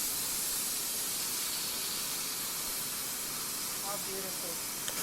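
A rack of lamb sears in a hot skillet after being flipped, a continuous even sizzle and hiss at moderate level with no break.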